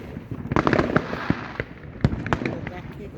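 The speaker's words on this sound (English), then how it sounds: "It's only fireworks." Fireworks going off outdoors, a rapid irregular string of sharp bangs and crackles, fairly near and loud, with a voice mixed in among them.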